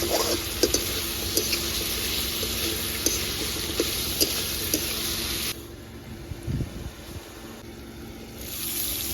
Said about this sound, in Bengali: মাছের পিসটা দিয়ে মশলার সঙ্গে একটু ভালো করে কষিয়ে নেব